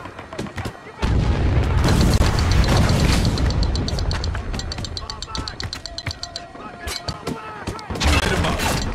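Mortar fire and explosions in the video game Spec Ops: The Line, with heavy booming blasts, rumbling, and rapid gunfire crackling throughout, loud and dense, with game voices shouting over the combat.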